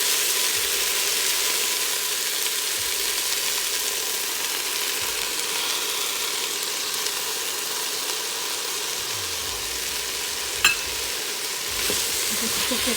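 Yogurt and red chili powder sizzle in a hot Instant Pot, a steady close crackling hiss that holds for the whole stretch, broken by a few faint clinks of stirring.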